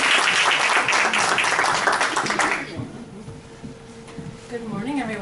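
An audience at a fundraising academy session bursts into dense clapping for a speaker, loud for a few seconds and then fading. Voices start talking as the applause dies down.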